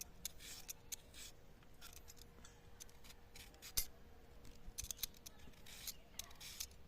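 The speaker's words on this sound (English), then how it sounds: "This peeler is pretty sharp and maybe not the best tool to use for safety reasons, but I really like the shavings over everything else though." A sharp vegetable peeler shaves thin strips from fresh coconut flesh, producing quiet, close scraping strokes in quick irregular bursts, with a few louder clicks and no voices.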